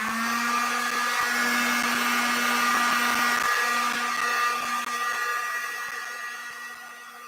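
A hair dryer blows over a wet painted art journal page with a steady, close whirring hum that starts loud, holds for several seconds, then slowly fades as it is moved or switched off. No one speaks.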